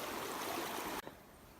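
Water rushes loudly in a Hoh Rainforest stream, a close, steady broadband flow that cuts off abruptly partway through, leaving a much quieter trickle with no talking.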